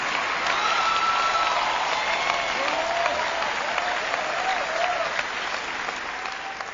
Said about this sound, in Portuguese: Se você quer aplaudir o Senhor, não bata palminhas.